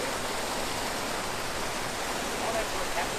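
A tropical waterfall in Cape York during the wet season roars as a constant, loud broadband rush of falling water, steady and unbroken throughout.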